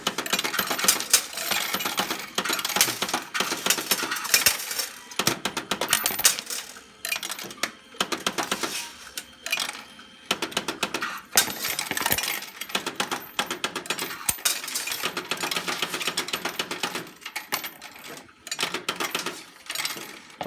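S&T OEM CCM-Sx coin module counting coins, a rapid metallic clatter and jingle of coins tumbling through the mechanism in long busy bursts, broken by brief pauses, close and loud with no talk.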